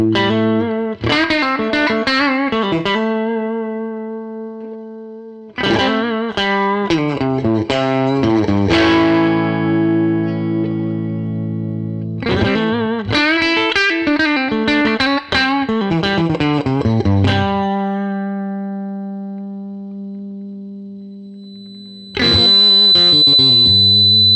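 Distorted electric guitar chords ring out through an AmpliTube 5 resonance filter effect that sweeps and colors the sustained notes, in several bursts separated by brief gaps; no talking.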